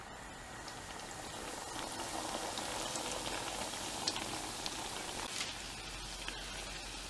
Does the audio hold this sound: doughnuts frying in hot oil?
yes